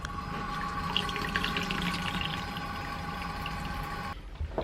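Cold water runs steadily from a kitchen sink tap in a classic Hymer B644 motorhome during water tank cleaning, a continuous close splashing flow that stops abruptly near the end.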